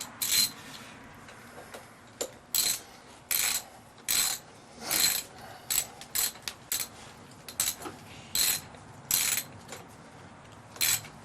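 Ratchet clicking in short bursts while snugging up a bolt on the clutch of a 2009 Harley-Davidson Sportster, close and fairly quiet, with repeated stop-start strokes separated by brief pauses.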